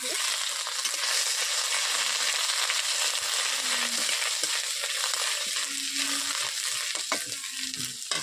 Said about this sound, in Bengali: পাঁচফোড়নটা লালচে হয়ে গেলে আমি দিয়ে দিচ্ছি আদা